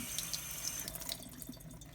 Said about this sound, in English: then we'll soak that down in the sink under running water